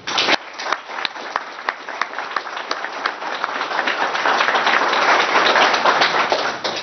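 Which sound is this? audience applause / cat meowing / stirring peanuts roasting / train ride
audience applause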